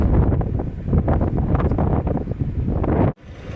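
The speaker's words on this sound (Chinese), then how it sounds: "站在风车的下方是狂风大作，好像是飞机飞过的声音，嗡嗡叫。" Strong wind gusts roar steadily beneath the turbines of a wind farm at Hutagou in Taiyuan's eastern hills, a loud, continuous buffeting rush across the microphone that cuts off abruptly near the end.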